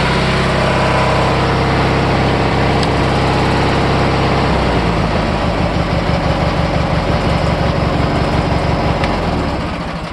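A Deutz-Allis garden tractor engine runs loud and close, its steady drone shifting partway through into a rhythmic, slightly uneven chugging as it catches on a cold start.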